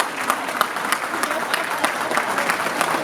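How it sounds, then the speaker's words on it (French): Audience at a film screening event clapping steadily, a crowd of hands with a few sharper individual claps standing out over the even wash. "On applaudit, on applaudit, on applaudit."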